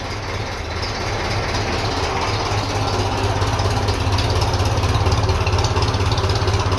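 A 1957 Ferguson FE35 tractor running on TVO idles steadily, a loud, close, continuous chugging rumble with a fast even pulse and no voices.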